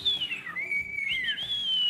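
A pet bird whistles a clear, high, wavering melody up close, with gliding pitch that rises and falls over a couple of seconds against faint room noise.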